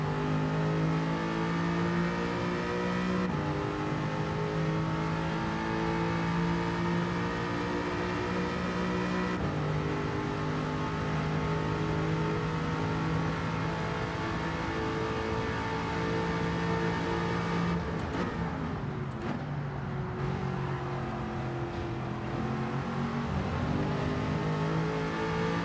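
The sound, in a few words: race car engine revving in video game Gran Turismo 7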